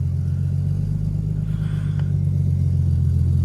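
Steady low engine rumble from a BMW car with a UUC segmented Kevlar clutch, heard from inside while driving, loud and continuous with a brief faint click partway through.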